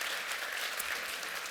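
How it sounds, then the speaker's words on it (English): An event audience claps in sustained, dense applause at an opening session, a steady wash of many hands with no pauses. "round of applause"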